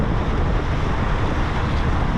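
Ranger Tug R25 boat cruising into Rock Sound Harbor in the Bahamas, with a constant loud wash of waves and wind rushing past the hull, no voices.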